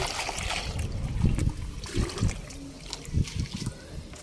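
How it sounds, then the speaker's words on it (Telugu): Plain water is poured into a plant fertilizer mix of ground soaked rajma, jaggery and sesame oil, giving a close, uneven trickling and splashing with a few soft thumps. "వాటర్లో డైల్యూట్ చేసుకొని ఇలా ప్లెయిన్ వాటర్ ఇందులో వేస్తాను"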